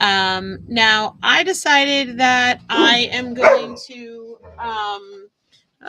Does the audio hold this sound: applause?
no